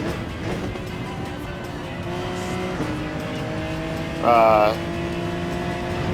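A race car drives hard around a track, its engine droning steadily up close, with shifting pitch and a brief, louder burst of tire squeal near the end.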